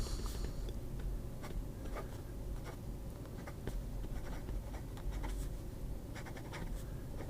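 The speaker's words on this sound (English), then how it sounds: "you can get away with it, and it writes not even scratchy, but you're getting an extra fine line" An LT Xi Yun Han D6 fountain pen nib is used upside down for reverse writing on paper, giving a faint, continuous fine scratching with small irregular ticks and strokes, quiet and close, with no voices.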